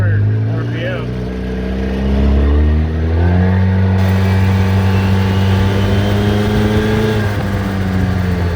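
A 2013 Polaris RZR 800S fitted with Mother Clutcher clutches revs up with low, quick engagement. Its engine drones loudly and steadily, rising in pitch, then holding a strained tone near the limiter in low range.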